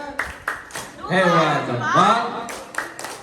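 Elementary school teachers at a maritime teaching workshop on Pulau Kelapa, Indonesia, perform a clapping cheer routine: a few sharp claps open and close it, with a voiced chant in between.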